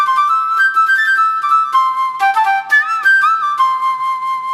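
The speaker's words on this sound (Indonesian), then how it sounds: "ini flute ya. Nah, sweet flute" A Yamaha keyboard's sweet flute voice, raised an octave, plays a bright, clear melody of short and held notes with light vibrato, alone and fairly loud.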